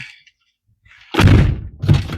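A car door is opened from outside after its handle was replaced, giving a short latch click and then two solid thunks close up, with no one speaking.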